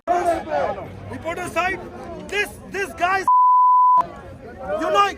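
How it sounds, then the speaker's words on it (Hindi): A steady electronic censor bleep, lasting under a second, covers a swear word as agitated people shout and argue over a noisy crowd in a confrontation with police. "गाली को हमने बीप कर दिया था"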